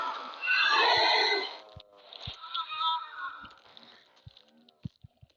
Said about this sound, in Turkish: Derken yanımda eşekler var.